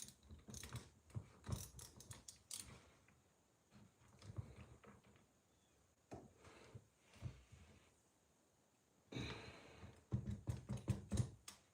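A long ratchet is worked during the rebuild of a Vesla transmission, giving fast, dense bursts of clicking pawl teeth close to the mic, separated by short pauses, with a final loud flurry of clicks.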